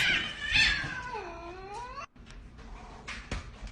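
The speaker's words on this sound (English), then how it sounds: "That cat is possessed, I swear." A cat in a Call of Duty game lets out a drawn-out, wavering yowl that bends down and back up in pitch, loud and close, then cuts off into quieter game noise and clicks.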